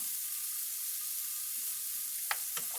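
Vegetable oil heating in a pan for a Philly cheesesteak gives a steady, even sizzle throughout, with two brief clinks of a utensil near the end.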